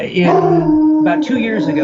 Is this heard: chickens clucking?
no